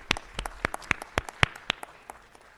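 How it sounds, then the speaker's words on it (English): Sparse clapping at a city council meeting: a handful of distinct, fairly sharp claps in an irregular rhythm, moderately close and faint overall, with no other activity around them. "Big round of applause for everybody."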